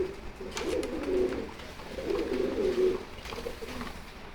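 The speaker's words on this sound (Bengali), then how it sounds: "খুব ভালো একটা কোয়ালিটি কবুতর এটা গিরিজেল।" A pair of Giribaz pigeons at a farm give two long, low, throaty coos, then a shorter third one, close and moderately loud over light background noise.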